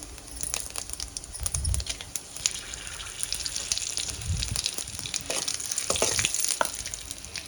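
Cumin seeds and broken dried red chillies sizzle in hot oil for a paneer curry, making a close, steady crackle with scattered sharp ticks and a few dull knocks from the pan.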